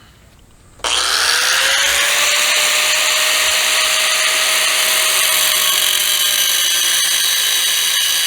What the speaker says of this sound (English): So we're going to pull the full axle back out and then take a cut-off wheel to it.